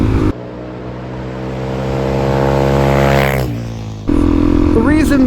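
A Suzuki DRZ400SM supermoto engine revs hard and climbs in pitch as the bike accelerates. The note drops off and then roars back in loudly up close, sounding raw and insanely loud.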